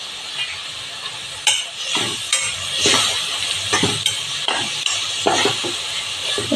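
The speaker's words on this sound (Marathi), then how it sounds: "आता हे सगळं आपण तेल सुटेपर्यंत चांगलं परतून घ्यायचं आहे" Tomatoes sautéing in hot oil for a spicy misal gravy, with a steady close sizzle and hiss broken by repeated scraping stirs of a spoon against the pan.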